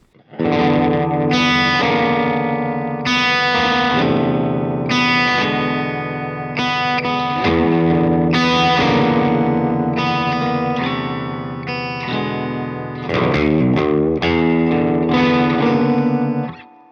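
Heavily effected baritone electric guitar, a Mule StratoMule tuned to B standard, plays thick distorted chords with chorus and reverb, loud and continuous, no voices.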